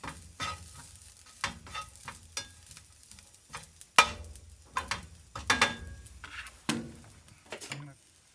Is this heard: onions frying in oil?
yes